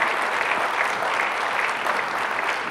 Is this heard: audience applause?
yes